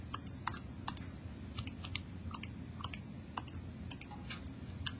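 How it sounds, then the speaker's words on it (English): Light plastic key clicks tapped on a calculator, a quick irregular run of soft close clicks over faint background hiss, with no talking. "I keep forgetting with my new calculator that I have to go over here to type it in."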